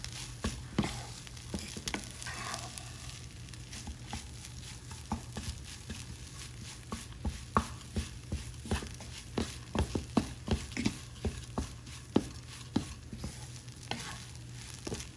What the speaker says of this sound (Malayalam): നന്നായിട്ട് ഇളക്കിയിട്ട് സ്റ്റൗ ഓഫ് ചെയ്യാം